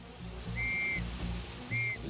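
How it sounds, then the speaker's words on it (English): Two short, steady, high whistle tones from a Versailles fountain operator signalling along the gardens, each about half a second, heard over a continuous low rumble of running water. "Each fountain operator communicates with the next by whistling."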